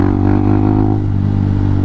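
Honda Hawk 250 motorcycle engine running while riding, a loud, steady low droning hum with a slight throb throughout, heard close up with no talk.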